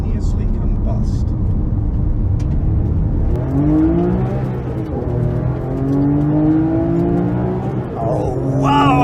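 A 2011 Porsche 997 GT3 RS 3.8 accelerates hard, its engine note climbing through gears in rising sweeps under steady road rumble, with someone talking over it.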